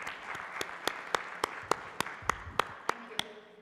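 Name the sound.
audience applause for conference speakers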